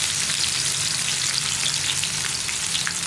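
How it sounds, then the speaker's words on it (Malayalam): Chopped tomatoes sautéing in a pan for a no-coconut kadala curry, a steady close sizzle and crackle of frying with no talk. "തക്കാളി ചേർത്ത് ഒന്ന് വഴറ്റിയെടുക്കുക."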